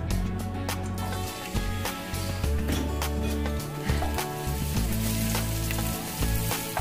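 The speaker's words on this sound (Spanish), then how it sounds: "al sartén, previamente ya calentado. Le vamos a poner el ajo." Garlic, about four large cloves cut into small cubes, fries in a preheated pan with a loud, steady sizzle and crackle throughout, along with some stirring and a low background hum.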